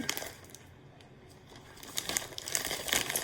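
Close, dry crinkling of a plastic zipper bag in irregular bursts, getting busier and louder toward the end, with a few soft rustles earlier on.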